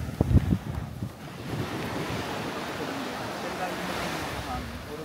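Ocean surf washing onto a sandy, rocky-bottomed beach at Boracay's Station 3 to Station 1 stretch, a steady broadband wash with wind noise on the mic and a brief louder rustle at the start.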